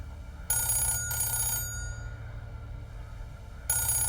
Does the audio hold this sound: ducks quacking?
no